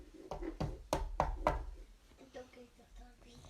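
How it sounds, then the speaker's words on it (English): Four or five sharp knocks on a door in a steady cluster, fairly close and loud, followed by softer faint rustling and movement with a hint of voice in the background. "didn't we hear this knock on the window like this?"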